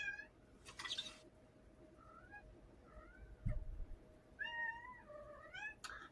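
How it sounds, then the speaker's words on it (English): A cat meows indoors several times, a few drawn-out, rising and falling cries spread across a quiet room with faint background hum and a brief thump. "my cat is like, I'm gonna start meowing every time."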